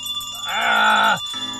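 Bells ringing inside a house as an audio drama effect: a bright, sustained metallic tone swells up, holds steadily, then cuts off abruptly, followed by a fainter ringing shimmer.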